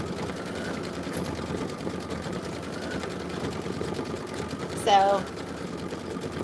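A 10-needle embroidery machine runs with a steady, rapid mechanical stitching chatter throughout, a person speaking briefly over it.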